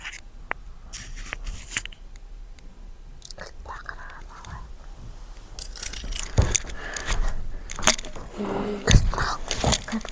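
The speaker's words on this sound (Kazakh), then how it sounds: "Достар, мен кілтті алып алдым міне." Keys jangle in the Granny horror video game as they are picked up, a few bright metallic clinks and rattles with soft handling noise and a quiet voice whispering throughout.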